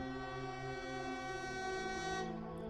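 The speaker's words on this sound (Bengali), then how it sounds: "ডাউন লাইনে একটা মেল ট্রেন আসছে" A mail train on the down line sounds as a continuous droning rumble with steady tonal hum, loud and close throughout, easing off slightly near the end.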